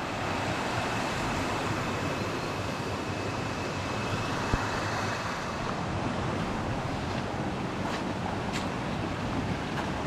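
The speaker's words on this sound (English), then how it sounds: "Look at this river." A cold river in Honduras rushes steadily with broadband water noise, continuous and fairly close, with a touch of wind across the microphone.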